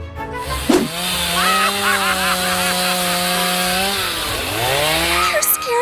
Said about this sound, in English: I just need my chainsaw.